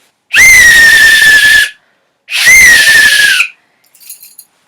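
Two long, shrill whistle blasts, each about a second and a half, loud and close, followed by a faint short trailing sound.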